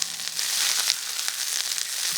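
Chili peppers sizzle and spit in oil in a wok over moderate heat, a continuous close crackle with small pops and stirring scrapes, no one speaking.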